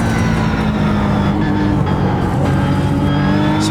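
Porsche Cup car engine in iRacing at Virginia International Raceway, a loud steady sim-racing drone with harmonic tones and small shifts in pitch, running continuously with no talk over it.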